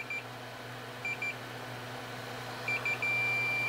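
A multimeter emits a few short beeps while probes test continuity on a guitar amp jack, then one sustained tone sounds over a low electrical hum.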